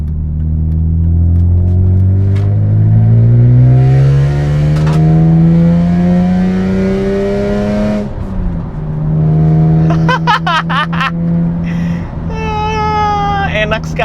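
A two-door sports car from around 2000 with individual throttle bodies and a six-speed manual revs hard, the engine note climbing high and loud through the gears with a brief drop between shifts, close and continuous.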